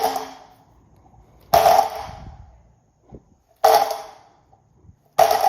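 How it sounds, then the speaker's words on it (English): A trick scooter that is badly adjusted and not dialed in gives off sharp clanking rattles. About four loud, separate bangs each ring out and fade, with quiet gaps between them and no voices. "when your scooter is not dialed, it should sound like this."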